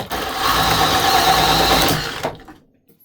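A power drill runs steadily at speed 2, boring through a metal box for about two seconds before cutting off abruptly into near silence. The whine is loud and close, with no talking.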